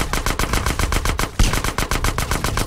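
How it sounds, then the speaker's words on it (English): Rapid, rhythmic bursts of shotgun gunfire in the GTA San Andreas DYOM mission game, loud and dense, with one heavier blast midway through a steady barrage of shots. "Wah, dia pakai shotgun di atas ini anjir."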